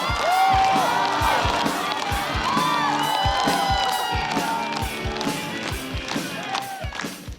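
A stand-up comedy audience claps in a steady beat and lets out whoops and cheers as comedian Menqiang comes on stage, with the noise filling the hall and fading slightly toward the end.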